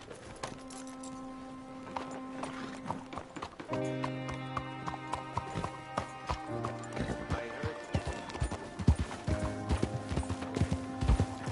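Hooves clip-clop in a steady galloping rhythm from Red Dead Redemption II, with a horse whinnying, tack jingling and sustained musical tones underneath, the beat growing louder and busier toward the end.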